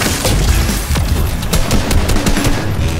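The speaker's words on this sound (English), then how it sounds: "Egg launcher, Stace!" Egg launcher fire in Fortnite, a rapid, loud, continuous stream of overlapping pops and booms that packs the short stretch of game audio with no pause.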